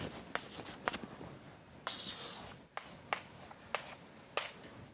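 Marker or chalk strokes on a board, sketching field lines in short scratchy swipes and taps, close and fairly faint in a quiet room.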